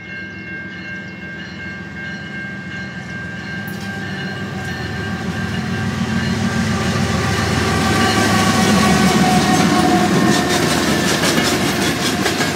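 Freight train with KCS locomotives at a railroad park, rolling past at speed: a steady heavy rumble with rapid clickety-clack of wheels on rail joints grows louder and nearer, and a faint horn sounds partway through.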